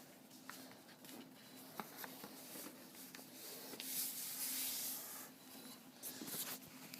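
Soft paper rustling and rubbing as a sheet of origami paper is folded diagonally toward the center for a simple turkey model, with faint scattered crinkles and brief creasing taps, quiet and close.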